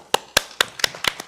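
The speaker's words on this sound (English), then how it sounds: "One more round of applause." Applause at a school board meeting, heard as six sparse, sharp claps spaced evenly and close by, with no crowd behind them.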